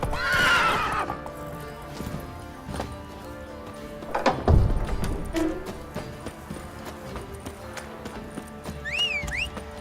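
Roach, Geralt's horse in The Witcher 3, with clip-clop hoofbeats and a whinny at the start. Hooves thud steadily at moderate volume over ambient game sound, with a heavier thump near the middle.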